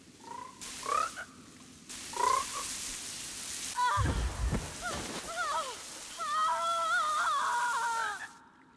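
Frogs of Grothmar in the video game Guild Wars 2, a run of warbling croaks and rising chirps, some near and loud, over a low rumble and faint background hum.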